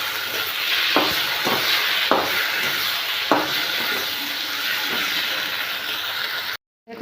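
Ginger garlic paste fries in oil with a loud, dense, continuous sizzle, broken by a few sharp knocks of a spoon stirring the pan, ending abruptly.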